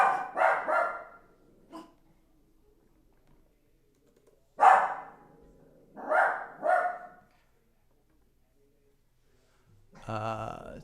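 Several loud, close dog barks come in clusters separated by quiet gaps, with a brief whimpering or yipping sound at the end.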